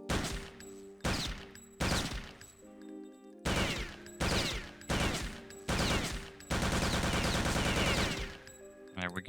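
Video game gunshots striking a weapon clip brush in a custom map, heard as a series of sharp separate shots and short bursts followed by a longer rapid volley, loud and close.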